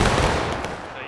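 Close, loud burst of rapid gunfire, shots running together into a dense volley, with voices faintly mixed in.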